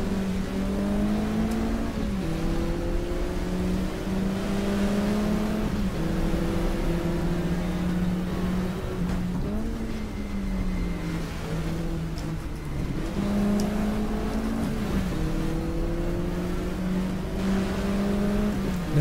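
A race car engine in GTR2 on the Linas-Montlhéry circuit drones loud and close, climbing in pitch and then dropping at each gear change, with shifts every few seconds and no talking.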